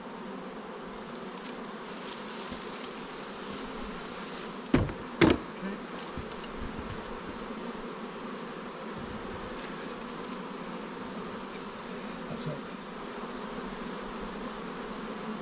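Honeybees buzzing around an open hive during a nucleus colony merge, a dense steady hum close by with a couple of sharp knocks partway through.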